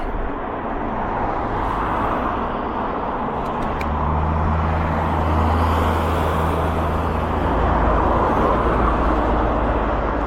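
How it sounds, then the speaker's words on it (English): Road traffic rushes past steadily while riding an Engwe Engine X e-bike, a continuous broadband roar of passing vehicles and wind with a low engine rumble swelling midway. "So this ain't the busiest traffic,"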